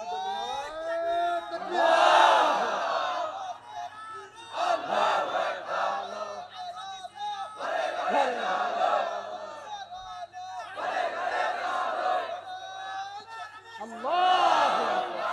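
A sermon crowd shouts the takbir, Allahu Akbar, in several loud, roaring bursts separated by short pauses, the chant swelling and fading each time.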